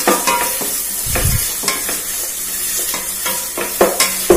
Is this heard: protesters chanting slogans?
no